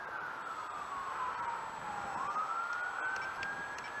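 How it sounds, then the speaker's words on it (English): Ambulance siren passing outdoors on a frosty day, a wailing tone that dips and rises as it goes by, fairly distant and steady, with no talking. "It must be that same ambulance that"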